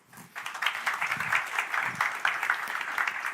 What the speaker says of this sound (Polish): a państwa proszę o brawa